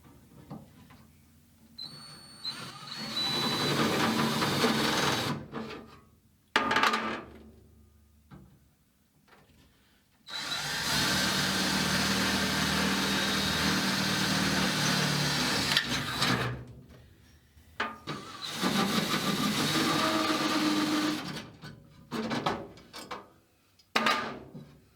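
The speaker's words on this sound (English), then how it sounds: "So right now I got to drill 2 holes in my seat." A power drill whirs steadily in several long bursts, boring holes into a car seat for a 1968 Dodge Dart drag car at close range, with short quiet gaps between runs.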